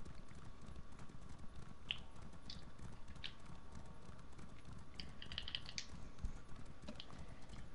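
Quiet clicking of computer keyboard keys, scattered soft taps and a few brief bursts of keystrokes over a low background hum during a game session.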